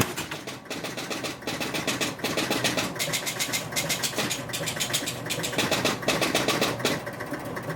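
Score motor of a Spirit of 76 pinball machine running steadily, a rapid mechanical chattering with rhythmic clicks and relay pulses repeating at a regular pace, close and fairly loud with no talking.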